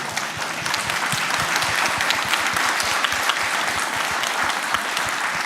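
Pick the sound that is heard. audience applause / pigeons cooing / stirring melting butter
audience applause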